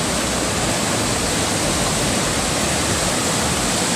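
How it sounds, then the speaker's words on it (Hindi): Strong waterfall on the Kareri Lake trek, swollen by light overnight rain, pours in a dense, steady roar that fills the whole clip, loud and close with no voices or breaks. "ये देखिए यहाँ पे वाटरफॉल से पानी आ रहा है।"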